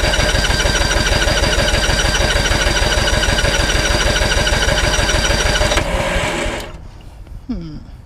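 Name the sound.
Honda riding mower engine starting and running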